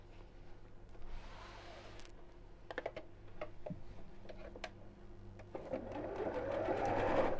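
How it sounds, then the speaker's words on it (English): A sewing machine stitches across matched fabric seams in short bursts of rapid mechanical whirring, separated by clicks and pauses. The quiet, close run builds into a longer stretch of stitching at the end. "we're going to sew all the way across there."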